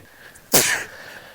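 A single sharp sneeze bursts out suddenly on a golf course, loud and close, then fades quickly into quiet background noise.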